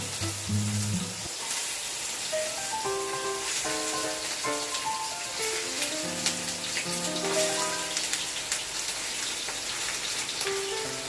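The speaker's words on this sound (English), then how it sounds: "Don't overcrowd the frying pan to avoid the dropping of the temperature here" Steady crackling sizzle of meatballs frying in a pan over high heat, continuous and fairly close, with a faint musical tone running underneath.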